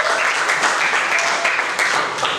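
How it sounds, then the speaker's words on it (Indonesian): Dense applause from a classroom audience, a steady wash of clapping at close range with faint voices mixed in. "Tepuk tangan buat kita semua."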